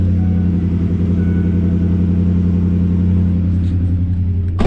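A high-mileage truck engine runs at a steady, loud idle with a deep, even rumble close by, ending in a short clatter.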